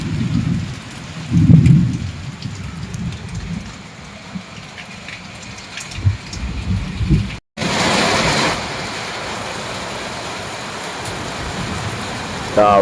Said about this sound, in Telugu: వాన అయితే బాగా పడుతుందండి మామూలుగా పడట్లేదు